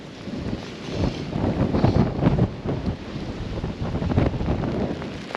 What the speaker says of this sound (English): we're getting some proper wind as well now